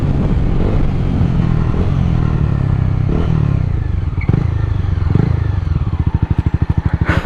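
A loud motorcycle with an open exhaust roars close by, then settles into a rapid, throbbing idle with harsh pulsing pops.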